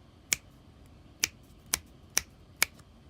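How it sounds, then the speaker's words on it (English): Five sharp finger snaps spaced roughly half a second to a second apart, each a crisp isolated crack close to the listener over a quiet background, made while testing an Arduino sound sensor module. "what if I again snap my fingers?"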